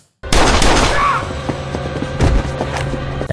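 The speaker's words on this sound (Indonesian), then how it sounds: "akhirnya membunuhnya di depan Donald dengan beberapa kali tembakan" Several gunshots ring out in a film shooting scene, sharp loud bursts over a tonal score, with a second heavy volley about two seconds after the first.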